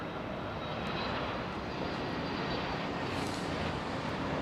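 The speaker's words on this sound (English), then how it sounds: "Charlie Johnson, that was a KLM 777." A KLM Boeing 777 airliner's jet engines give a steady, broad roar at a moderate distance during early-morning arrivals at London Heathrow, unchanging across the whole stretch.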